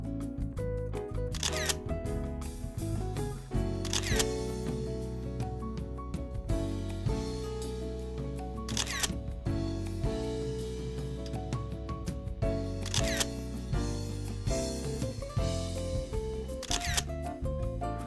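A camera shutter clicks in sharp, evenly spaced snaps while photos are taken around a swimming pool, the clicks standing out over steady background music.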